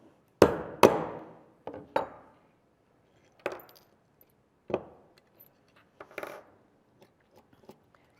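A hammer strikes a half-inch punch in a Pepe disc cutter, giving about seven sharp metallic taps at irregular intervals, close and fairly quiet, with no talking.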